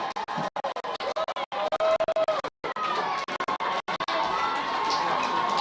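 Crowd at a 2023 Adelaide Footy League Division 1 match between Goodwood Saints and Old Ignatians, roaring and cheering after a late goal, a loud, sustained swell of voices with scattered shouts and a few brief drops.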